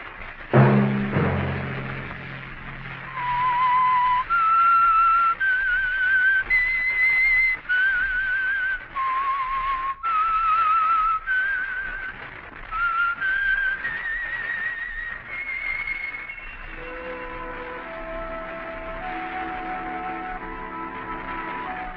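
A melodic whistled tune rises and falls clearly, with a brief instrumental flourish at the start and orchestral music entering near the end, the signature whistle of an old radio program's opening.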